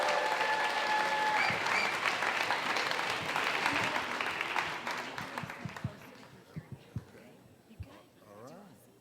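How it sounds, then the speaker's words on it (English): Loud crowd applause and cheering at a Houston story slam show, strong at first, then thinning into scattered individual claps and fading under the room's murmur before dying out. "Keep clapping."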